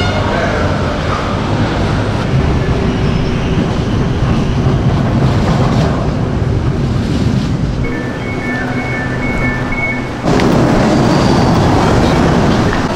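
An LRT 1 train passes near a tunnel with a loud, continuous rumble and clatter, the noise shifting and swelling again toward the end.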